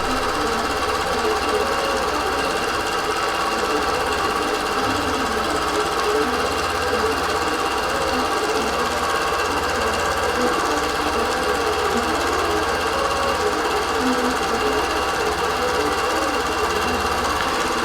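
A longarm quilting machine stitches a Meandering Jasmine digital pantograph pattern. It gives a loud, steady mechanical whir with a fast regular pulse, unbroken from start to finish.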